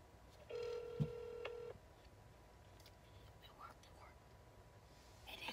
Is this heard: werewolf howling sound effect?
no